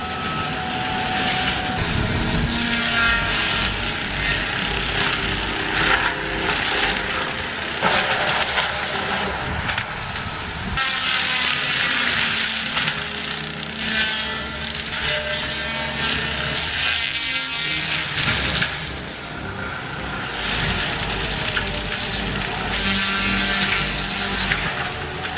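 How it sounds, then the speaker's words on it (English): A CAT 299DX-HP compact track loader with a disc mulcher clears trees, giving a steady, loud mechanical roar and grinding that swells and dips with brief shredding bursts throughout, with no talk. "The CAT 299DX-HP pushes in, the disc bites hard, and suddenly a difficult clearing job looks almost too easy"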